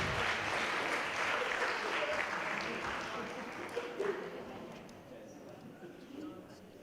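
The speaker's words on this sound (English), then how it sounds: "So everyone's giving a round of applause" Audience applause at a student election hustings, moderately distant steady clapping that fades gradually, with some voices in the room.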